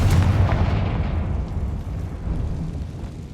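Confringo fire-blast spell exploding in Hogwarts Legacy: a loud, deep boom at the start that rumbles and fades over a few seconds.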